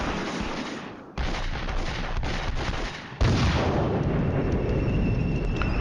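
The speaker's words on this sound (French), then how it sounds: "On subit des tirs d'artillerie sur la position où les AMX se sont placés" Artillery shells fall on a position in the Cold War wargame Flashpoint Campaigns, a sustained roar of booming explosions with sharp onsets where new blasts strike, loud and continuous throughout.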